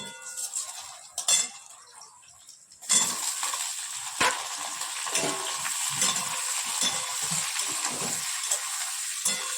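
Soybean chunks frying with onion, cumin and dried chilies in hot oil, starting quiet with a few clinks, then a loud steady sizzle with frequent stirring scrapes, close up and without talk.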